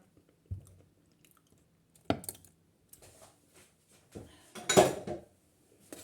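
Eggs going into chocolate cheesecake batter in a home kitchen, with sparse close clinks of shell and bowl, then a wetter squishy mixing burst, quiet and intermittent.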